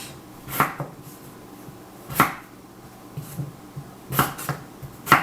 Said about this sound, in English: So we're just gonna cut the potatoes up.